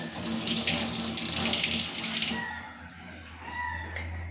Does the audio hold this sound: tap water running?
yes